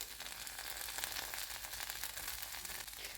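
Stuffed brinjal shallow-frying in oil in a pan on a stove, a steady, even sizzle that runs unbroken and close at low volume.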